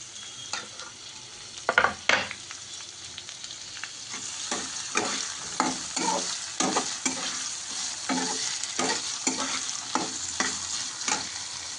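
Green chillies fry in a pan with steady sizzling and repeated scraping stirs at an uneven rhythm, close and fairly loud, no talking.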